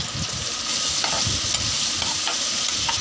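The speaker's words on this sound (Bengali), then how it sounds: "পেঁয়াজ লঙ্কা দিয়ে হালকা করে একটুখানি কষিয়ে নেব বলতে পেঁয়াজ একটুখানি হালকা লাল হওয়া পর্যন্ত নাড়াচাড়া করে নেব" Onions and chillies sizzle steadily as they fry in garlic, with a spoon stirring through them in a few soft scrapes. The hiss is close and continuous, with no talking.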